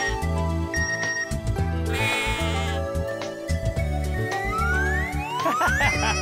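A mobile phone message ringtone plays as a bright repeating electronic melody, loud and close, cycling through short tonal phrases with rising chirps near the end and no talk.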